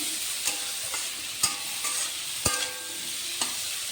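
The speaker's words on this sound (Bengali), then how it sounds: "এই সজনে ফুলটাই এখন দিয়ে দেব সজনে ফুল এখন দিয়ে দেব" Drumstick flowers go into a pan with potatoes and beans and are fried and stirred, giving a steady sizzle with four sharp utensil scrapes against the pan at roughly one-second intervals, close by, with no talking.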